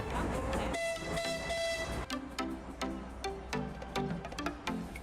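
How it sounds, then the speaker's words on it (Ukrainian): The Lviv children's railway train sounds a long whistle near the start, followed by a steady rumble and rhythmic clacking of the cars rolling past, fairly close with no talking. "Це львівська дитяча залізниця."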